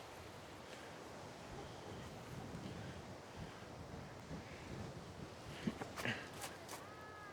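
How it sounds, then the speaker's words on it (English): Strong gusts during a dust storm on a disc golf course in Dalhart, Texas, buffet the microphone outdoors with a continuous rumbling roar that rises and falls, and a voice speaks briefly near the end. "This wind is ridiculous. I don't know if you can hear it in the mic"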